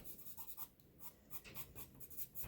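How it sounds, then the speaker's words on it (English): Pencil strokes scratching across paper while shading a landscape drawing with a 4B pencil, a quiet steady series of short rubbing strokes close by, with no talking. "I'm going to use my pencil here."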